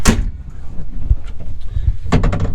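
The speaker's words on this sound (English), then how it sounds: "Shut this door." The cab door of a 2017 Kubota SVL75 skid steer swings shut with a solid thud, followed by a few lighter rattles and clicks close by.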